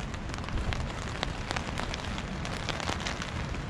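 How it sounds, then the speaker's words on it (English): Steady rain patters on a Hexpeak V4A tent in blustery wind, a dense continuous hiss broken by sharper individual drop ticks, heard close from inside the tent. "You can hear a wee bit of rain, it's been heavier than that, it just keeps coming on and off."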